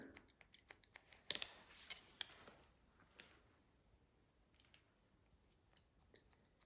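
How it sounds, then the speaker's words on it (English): Scissors snip in quick, sharp clicks while point cutting curly hair for a pixie cut, close and fairly faint, with a cluster of cuts early on and sparse snips later, no talking. "So we're just trimming that, but point cutting."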